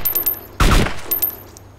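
AK74 rifle fire in the video game DayZ, a single short, loud burst of rapid shots breaking through quieter background sound.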